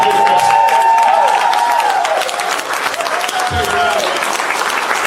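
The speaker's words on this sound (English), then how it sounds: "Guys, stand up and give a round of applause." A standing crowd at a business opportunity meeting gives sustained, loud applause with scattered cheers, the dense clapping continuous throughout while a voice carries over it.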